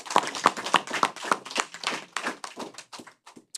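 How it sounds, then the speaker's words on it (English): Scattered applause from a town hall audience, a handful of sharp claps at first followed by irregular clapping that thins out and fades over a few seconds. "So give our government a round of applause."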